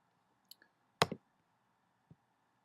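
Computer mouse clicks while a smart-logic block program is being set up: a faint single click, then a louder close double click a moment later and one more soft click, all in a quiet room.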